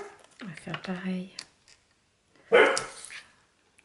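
A dog barks and yips a few times close by, in two short bursts separated by a pause.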